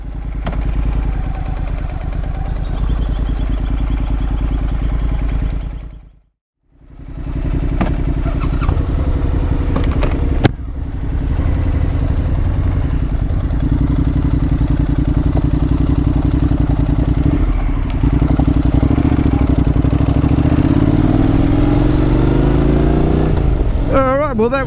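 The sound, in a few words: Honda NC750X motorcycle engine while parking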